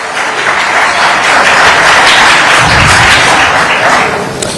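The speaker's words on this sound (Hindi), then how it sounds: "आशीर्वाद लेने के लिए एक बार आप" Audience at a Rajat Sammelan gathering of saints on Sanatan Dharma claps loudly and continuously, a thick close roar with a few low thumps mixed in.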